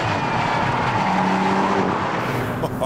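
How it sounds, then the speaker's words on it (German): A Porsche Macan Turbo compact SUV with 400 hp accelerates hard, its engine giving a loud, continuous rising roar for a few seconds, with no voices. "Da stecken 400 PS unter der Haube und die gehen ganz schön bösartig los."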